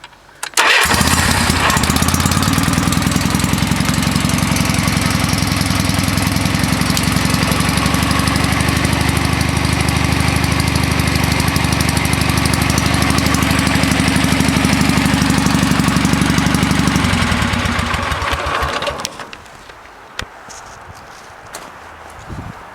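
A Kohler 18.5 hp Command Series V-Twin engine starts up and runs loud and steady close by, a continuous low throbbing drone for about eighteen seconds before cutting off, leaving quiet rustling.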